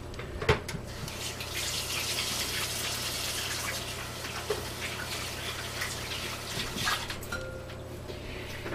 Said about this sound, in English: I'm going to wash my hands, guys.